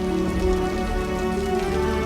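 Rain falls steadily, a dense, even patter that fills the whole stretch. A tonal hum lies underneath, and there are no voices.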